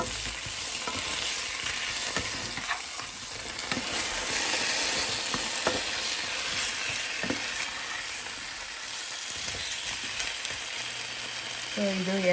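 Potatoes sprinkled with pepper powder frying in a pan, a continuous hiss of sizzling oil with intermittent scraping stirs of a spatula, close and fairly steady throughout.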